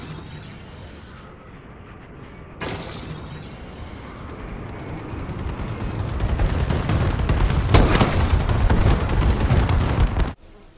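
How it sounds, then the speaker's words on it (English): Bombing run in a military video game: a sustained wall of rumbling explosions and booming blasts that builds steadily in loudness, with a sharp burst partway through and a heavier surge near the end before cutting off abruptly. "Friendly bombing run incoming."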